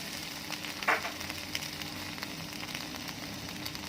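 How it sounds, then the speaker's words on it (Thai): Eggs frying in a pan after seasoning, a steady soft sizzle with faint crackles and one brief sharper spatter, no talking. "แล้วก็ใส่ไข่ลงไปเลย"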